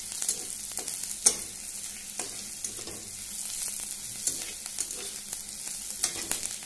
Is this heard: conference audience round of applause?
no